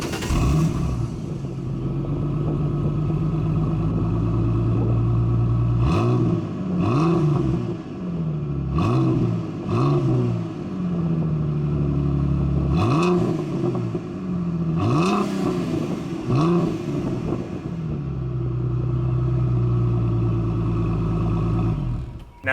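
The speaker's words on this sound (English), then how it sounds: "there is a aftermarket catback exhaust on this, and it sounds incredible" A 2006 Ford Mustang V6 convertible with an aftermarket catback exhaust idles with a deep burble, then revs repeatedly in several sharp rising blips that fall back to idle, close and loud.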